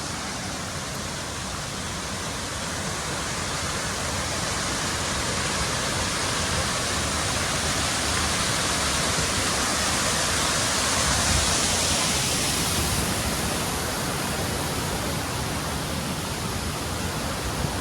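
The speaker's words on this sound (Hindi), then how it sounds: "done with the Neer waterfall" Neer Waterfall near Rishikesh roars as a dense, unbroken rush of falling water, loud and close, holding steady throughout without speech.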